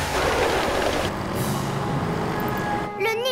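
Heavy engine rumble of a cartoon ninja bus, a big vehicle idling loudly with an air-brake hiss, then sharp beeping tones near the end.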